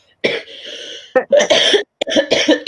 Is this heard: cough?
yes